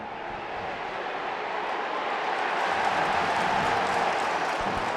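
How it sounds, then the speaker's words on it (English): Wigan Warriors rugby league crowd roaring during a match against Warrington Wolves, a broad, dense wash of cheering that swells slightly and holds steady throughout, with no talk. "the Wigan fans cheering every tackle on Blake Austin"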